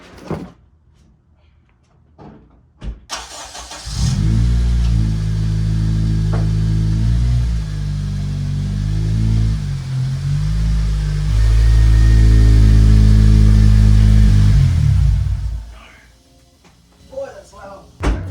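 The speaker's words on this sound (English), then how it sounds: "Drive the Civic in." A 2008 Honda Civic Si engine starts with a brief crank, then idles and rumbles steadily up close as the car is driven in, holding a loud low drone for about twelve seconds before cutting off, with faint clicks and thumps around it.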